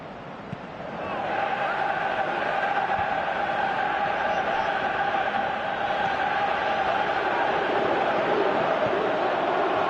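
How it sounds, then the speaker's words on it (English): Stadium crowd in a PS4 football video game, a steady, dense roar with a droning chant-like tone that swells after the first second and holds loud and unbroken throughout. "you can hear how the crowd are reacting to this too"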